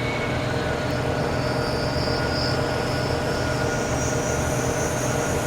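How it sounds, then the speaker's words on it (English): A de Havilland DH.100 Vampire jet engine spooling up in Flight Simulator X: a steady, dense roar with a thin high whine that climbs gradually in pitch, no voices. "Sounds like we got ignition. RPMs are coming up."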